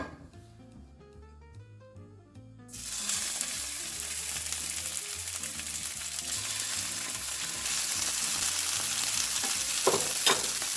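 Italian sausage hits a pan with oil and bursts into a loud, continuous sizzle that builds and holds, close up, following a brief quieter stretch with background music.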